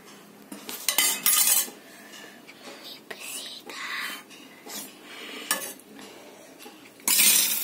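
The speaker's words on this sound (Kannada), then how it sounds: "ನಾವು ಈಗ ಕ್ಯಾರೆಟ್ ಅನ್ನು ಹಾಕೋಣ" Carrot going into a pan and being stirred, with clinks and scrapes of utensils against cookware in bursts, and soft whispery background sounds between them.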